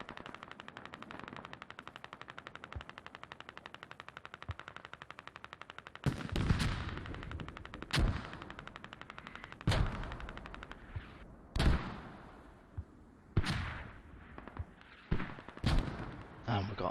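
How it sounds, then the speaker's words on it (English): Mortar and weapons fire in a military shooter game on the Kokan map: rapid gunfire rattles at first, then repeated sharp, heavy booms punctuate the fight, with a voice talking in places. "We can hear the mortars going out."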